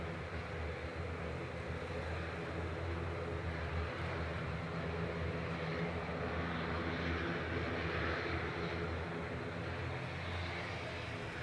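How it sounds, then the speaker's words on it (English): An Aurigny ATR 72-600 turboprop at Manchester Airport produces a continuous droning hum with steady low tonal bands, sustained and even at moderate distance, with no talking. "Aurigny Flight 679, back to Guernsey now, GORAI and ATR 72600."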